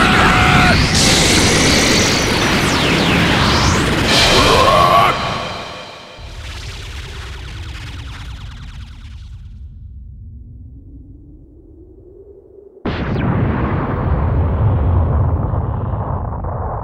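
A charged energy blast from the Special Beam Cannon attack in the Dragon Ball Xenoverse 2 video game, booming and bursting loudly, fading away midway and then a second loud burst hitting near the end.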